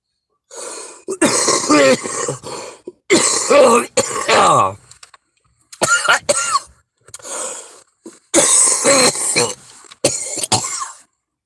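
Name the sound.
coughing and throat clearing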